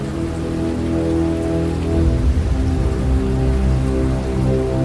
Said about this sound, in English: Soon heavy rain began to fall on the whole earth.